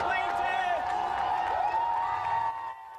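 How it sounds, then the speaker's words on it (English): Crowd of supporters outside the Supreme Court erupting in cheers and applause over the decision striking down the Defense of Marriage Act, a steady mass of voices and clapping that drops off near the end. "The crowd of supporters outside the Supreme Court erupted as that decision was handed down"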